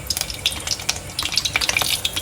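Curry leaves spluttering in hot oil for tempering, giving rapid bright crackles and sharp pops over a steady sizzle, close and lively for a couple of seconds.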